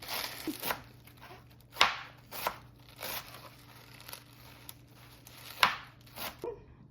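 A knife chops green cabbage on a board in a home kitchen, giving irregular crisp cuts and crunchy thuds, close and clear, with scattered pauses between strokes.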